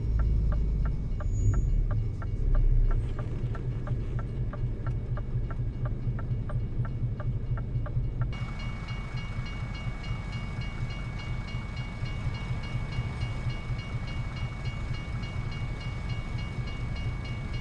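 In Euro Truck Simulator 2, a level-crossing bell rings in a rapid, regular rhythm over a low rumble, then gives way to the loud, continuous roar of a passing train.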